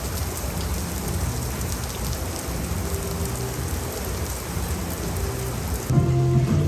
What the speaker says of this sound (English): It is raining quite a lot now, actually